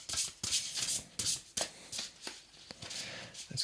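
Tarot cards are shuffled by hand in several quick riffling bursts with short gaps between them, close by and crisp, with no talking.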